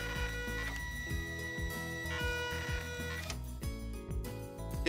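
A Zebra ZT411 thermal label printer runs steadily, its mechanism giving a continuous whirring drone with a repeating ticking, clicking rhythm that stays close and even throughout.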